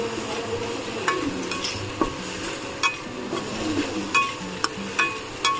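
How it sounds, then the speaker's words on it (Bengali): Spice paste sautés in a pan with a steady low sizzle, punctuated by repeated sharp clinks and scrapes of a utensil stirring against the metal. "এটাকে দিয়ে একটু কষিয়ে নেব"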